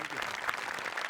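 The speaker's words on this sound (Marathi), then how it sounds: "त्याच्यासाठी पण एकदा टाळ्या वाजल्या पाहिजेत" A studio audience at a Marathi comedy show claps throughout in a short, dense burst of applause with a faint murmur of voices.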